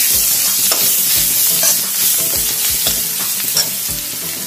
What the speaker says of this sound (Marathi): एक ते दीड चमचा टाकूया बेसन, म्हणजे छान भाजलं आणि त्याला छान भाजून घेऊया